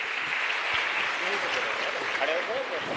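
An audience at a large Sanatan religious gathering breaks into sustained, even applause, a dense wash of clapping filling the space for the whole stretch.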